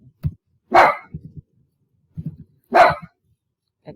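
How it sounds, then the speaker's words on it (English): A dog barks twice, loud and close, each bark followed by a few softer yips and huffs, with quiet gaps between. "Excuse the dog."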